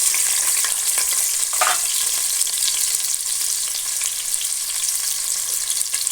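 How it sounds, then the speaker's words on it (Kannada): Onions fry in a mix of hot oil and ghee with a dense, continuous sizzle, close and steady, with an occasional stirring scrape. "ನೆಕ್ಸ್ಟು ನೀರುಳ್ಳಿ ಹಾಕ್ತಾಯಿದ್ದೀನಿ"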